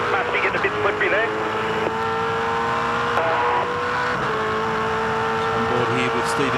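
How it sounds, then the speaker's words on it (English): A 2005 V8 Supercar with a broken exhaust header roars past the turn 4 camera at the Tasmania race, its engine note loud and continuous with commentary voices over it throughout. "That car of Jamie Whincup's has got a broken header. You listen to it when it goes by our camera up here at turn 4, it sounds awful."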